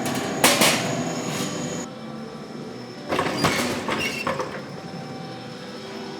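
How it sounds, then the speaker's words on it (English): A planishing hammer shapes a sheet metal hood panel, giving short bursts of rapid metallic hammering that start and stop in a workshop, moderately loud with quieter gaps between passes. "I'll run this through the planishing hammer, and I'll put a little bit of dome in it this way"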